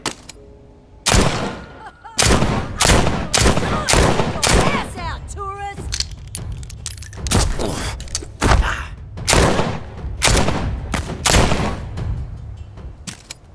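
A gun fired in The Walking Dead Saints and Sinners video game: a rapid series of loud, close shots in irregular bursts, some thumping impacts and a short clattering mechanical sound between them.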